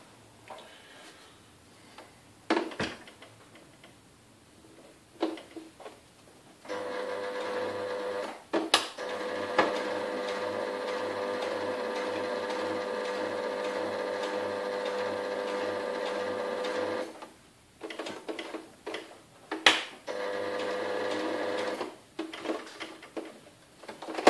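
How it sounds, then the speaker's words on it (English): A sewing machine stitches neoprene in a long steady whirring run of about ten seconds, followed by a shorter run, with scattered clicks and handling knocks between the runs. "Sewing neoprene, forgot to put the foot down."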